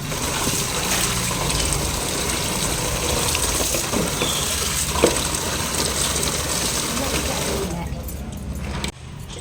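Water runs continuously while a dog is bathed, a steady gushing splash close by under a voice coaxing the animal, then tapering off near the end.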